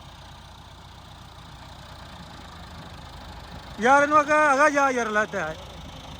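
A tractor stuck in mud idles with a steady low engine hum throughout, while a voice shouts loudly over it near the end.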